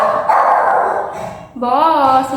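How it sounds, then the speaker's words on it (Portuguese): A pet dog barks and yips in a home over someone speaking Portuguese, with a sharper, higher burst of barking near the end. "esse é meu cachorro, ele vai aparecer muitas vezes aqui no vídeo latindo"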